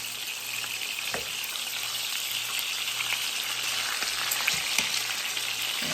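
Pork chops sear in a hot pan for smothered pork chops, giving a loud, steady, close sizzle and spatter that runs without a break, with no voices over it.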